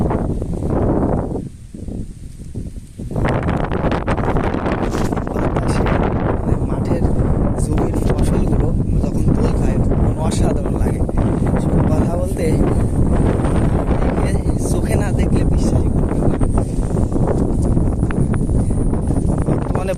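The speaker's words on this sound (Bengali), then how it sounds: "ঝড়ো হাওয়া বাতাস হচ্ছে" Loud, gusty storm wind over bean fields buffets the microphone continuously, roaring in uneven surges with a brief lull early on.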